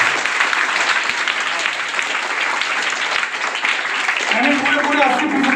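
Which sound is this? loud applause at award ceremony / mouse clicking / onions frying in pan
loud applause at award ceremony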